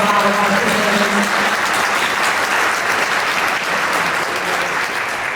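An audience at a senior lobby day at the Colorado Capitol claps for the presenters, a dense steady round of applause lasting several seconds.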